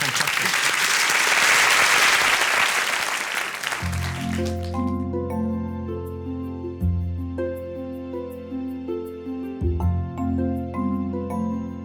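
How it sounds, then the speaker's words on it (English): Brief applause for a chef on a rhubarb cooking show breaks out and fades within a few seconds, then gives way to sustained piano-like musical tones with clear, steady note changes. "Claude, well done. Round of applause."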